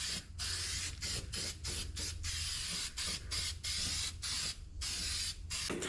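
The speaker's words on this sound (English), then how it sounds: "So I'm gonna spray some of this on. Make sure I get all angles of those holes there." An aerosol can sprays paint coating into the holes of rock sliders on a 1979 Jeep Cherokee, a steady close hiss broken by brief pauses as the nozzle is released and pressed again.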